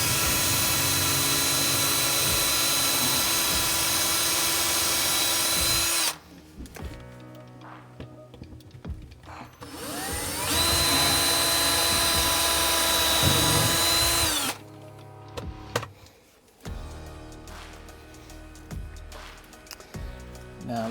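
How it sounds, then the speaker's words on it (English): A power drill pre-drilling screw holes into a new caravan boot, running in long loud steady whines separated by short pauses and brief restarts. "Now let's pre-drill them."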